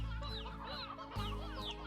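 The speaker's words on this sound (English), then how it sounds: "Oh hey, we have an elder hen." An elder hen in the video game Slime Rancher clucks in a series of short, close calls over a steady low game hum and busy background ambience.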